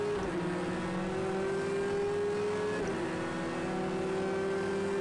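Ford GT race car in a racing game pulling alongside and passing on the outside, a steady close engine drone with gear-shift dips in pitch, loud and continuous, no talk.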